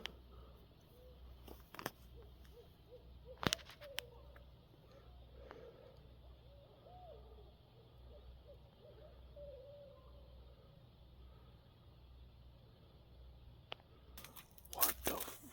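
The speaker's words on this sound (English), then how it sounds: "Two owls." Two owls call at around 3 a.m., giving faint, soft hoots in a quiet night setting. Sparse clicks and rustles sit close to the microphone.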